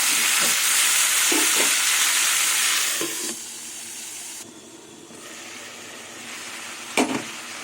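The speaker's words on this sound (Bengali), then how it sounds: "এবার ঢেকে ঢেকে সবজিটা কষিয়ে নেব" Mixed vegetables with drumstick pods fry under a lid in a pan, a steady broadband sizzle that is loud early, then thins and quiets, with a few soft clinks and a sharp knock near the end.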